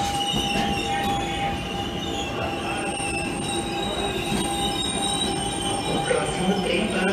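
A SuperVia CNR series 3000 commuter train arrives at Central station in Rio, with loud, sustained wheel squeal and steady rail rumble filling the platform throughout.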